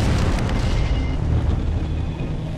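Rock blasting at the Diavik diamond mine, an open-pit crater in a frozen volcano, gives a sustained, loud, rumbling roar of blasted rock that fills the whole stretch with deep low-end energy and no voices.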